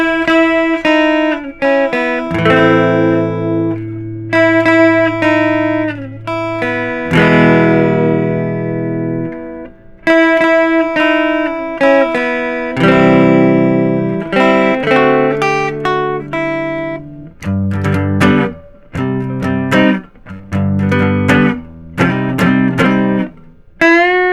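Electric guitar plays a riff of sustained, bending notes and quick phrases, loud and clear with no voices.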